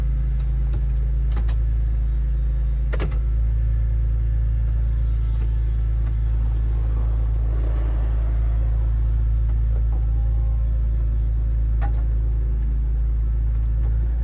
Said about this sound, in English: E46 top operation is incredibly smooth and quick